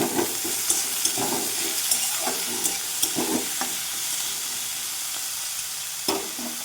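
Food frying in a pan with salt sprinkled over it for a fish-based spicy curry, a continuous hissing sizzle punctuated by repeated scraping and tapping of a stirring spoon.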